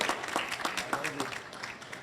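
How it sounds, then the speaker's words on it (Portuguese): Applause from an audience at a sports team presentation event, a steady patter of clapping with a loud voice speaking over it. "manter aplauso forte para dar ânimo e energia para ser aqui bom começo de postura"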